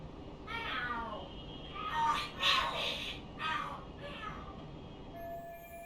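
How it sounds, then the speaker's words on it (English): Cats fight and scream in the video game Lost Judgment, with several drawn-out wailing yowls that rise and overlap over a steady background hum. "Are there cats fighting?"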